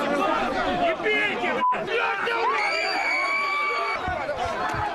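Protesters shout, yell and chatter in a dense, loud crowd during a clash in Kyiv as police spray tear gas, with screams and raised voices overlapping throughout.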